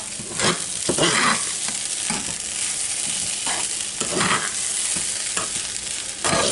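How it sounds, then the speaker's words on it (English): Rice being stirred in hot seasoned oil in a pan for seasoned yellow rice: continuous close sizzling with repeated scraping strokes and soft rustling of the grains. "getting the rice to be coated with the oil, the seasoned oil"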